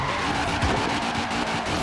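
A Porsche 356 RSR Emory Racing Edition race car in Forza Horizon 4 skids with a continuous loud tire squeal over the roaring engine, steady and close throughout.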